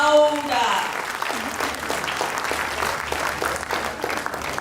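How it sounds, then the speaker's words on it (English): An audience at a sickle cell foundation event applauds steadily for several seconds, the clapping fairly loud and sustained, with a voice speaking over the opening. "Please, can we make that round of applause louder?"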